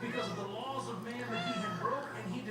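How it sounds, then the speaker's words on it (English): A pet cat meows for attention indoors, drawn-out close meows repeating across the moment while a person talks over them. "my kitty wants attention"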